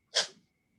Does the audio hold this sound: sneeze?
yes